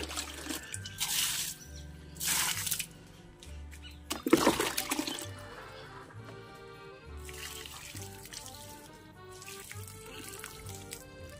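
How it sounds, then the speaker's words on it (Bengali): Water pours and splashes into a plant pot in a home garden, in several irregular gushes amid background clatter and low hum. "বেশি করে জল দিয়ে দিই।"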